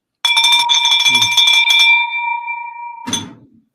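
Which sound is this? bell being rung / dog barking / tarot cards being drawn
bell being rung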